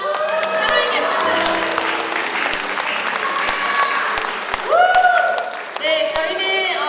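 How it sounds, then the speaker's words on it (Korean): A congregation at a church anniversary thanksgiving service applauds one another, with sustained crowd clapping and some cheering mixed with voices and sung or called-out tones rising near the end. "서로에게 박수."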